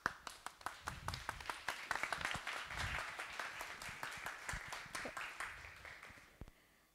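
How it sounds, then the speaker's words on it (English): An audience at a TEDx talk applauds a speaker, starting with a few distinct claps that swell into a fuller round, then thin back out to scattered claps before fading. "give her a round of applause, please"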